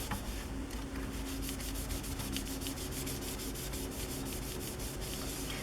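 Steady rubbing across an old golden book cover to lift surface dirt, a continuous close scratchy friction sound with faint rhythmic strokes and no talk.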